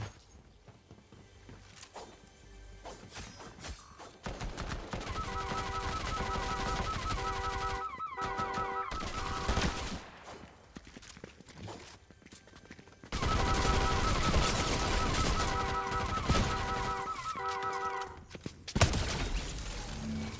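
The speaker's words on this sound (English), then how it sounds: "Why is it shooting at me?" Rapid automatic gunfire in a video game rings out in loud sustained bursts, separated by quieter stretches, with game music and effects running underneath.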